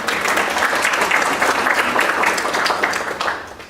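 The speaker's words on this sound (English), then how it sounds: "So if we can just give them another round of applause for those excellent presentations." A large audience claps steadily and enthusiastically, a dense, continuous wash of applause that holds throughout.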